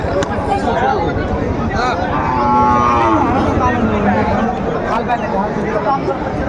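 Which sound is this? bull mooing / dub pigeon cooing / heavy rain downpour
bull mooing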